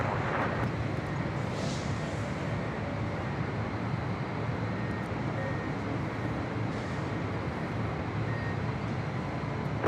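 Airliner engines roar at Los Angeles International Airport, a steady, loud broadband rumble that holds evenly from start to finish with no voices.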